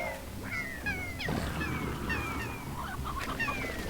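Chickens in the video game Slime Rancher cluck and squawk in a string of short, bright calls over busy game sounds and background music.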